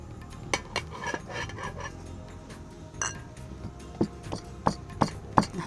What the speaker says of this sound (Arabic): الحين بندق الثوم